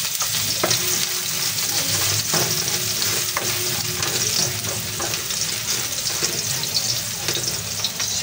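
Garlic crackles and sizzles steadily in hot cooking oil while chicken caldereta with coconut milk is being made, a dense, even frying hiss with a few sharper pops throughout.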